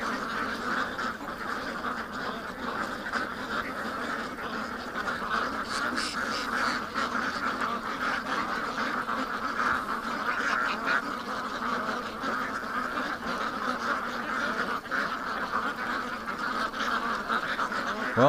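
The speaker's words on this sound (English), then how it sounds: "Freaked out ducks." A group of frightened ducks quacks and honks continuously, a restless chorus of overlapping calls at moderate distance that holds steady throughout, fairly quiet overall.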